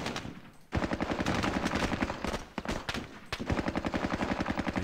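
Sustained machine-gun and rifle fire in a squad-based war video game, dense rapid shots rattling in long overlapping bursts with a brief pause partway through, loud and close.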